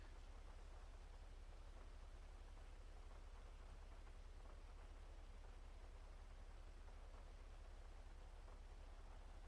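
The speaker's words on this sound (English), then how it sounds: "At least the rain's calmed down a bit, it's less noisy now." Steady rain falls in the video game GTA 5, a dense, even hiss of droplets with a constant low rumble underneath, filling the scene without letup and no voices over it.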